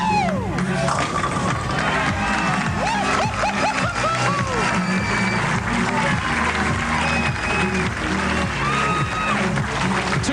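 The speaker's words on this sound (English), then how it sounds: "Belmonte brings the crowd to their feet." A bowling crowd at a PBA Long Island Classic event claps and cheers loudly in sustained, dense applause, with laughter, whoops and voices mixed through the ovation.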